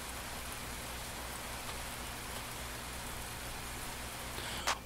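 Steady, faint rain hisses evenly throughout, a soft constant patter with a small knock just at the end.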